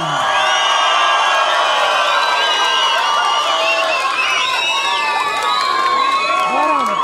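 A large crowd cheers, whoops and shouts continuously and loudly at an outdoor concert during a sheep-shearing festival in Beytüşşebap, with children shouting among them.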